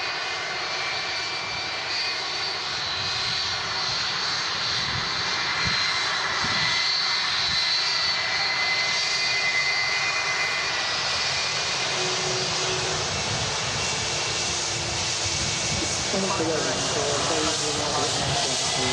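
Jet2 Boeing 757 engines at Manchester Airport, a loud continuous roar and hiss that swells over the whole stretch, with a voice talking over it.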